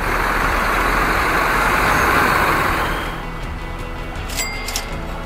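DAMRI airport bus from Jakarta's Terminal 3 cruising along an empty highway, a loud steady engine and road roar that drops to a lower rumble partway through, with faint rattles and squeaks near the end.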